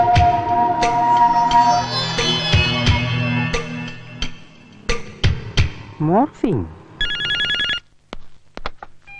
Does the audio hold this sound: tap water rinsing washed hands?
no